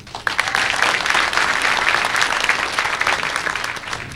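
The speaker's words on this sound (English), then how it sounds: "You can give a round of applause for that." A comedy club audience bursts into steady, dense applause that holds at a full, even level for several seconds before tapering slightly.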